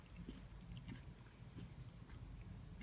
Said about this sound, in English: I apologize for all the crunching, if you can hear the crunching